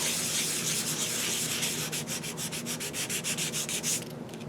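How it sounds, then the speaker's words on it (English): A fine grit nail file scrapes across a magazine page in quiet, close rubbing strokes, first blended into a continuous rasp, then becoming a quick rhythmic series of short back-and-forth swipes. "I'm going to use my fine grit nail tool thing. And I'm going to gently and flatly"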